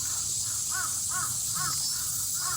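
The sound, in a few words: bird cawing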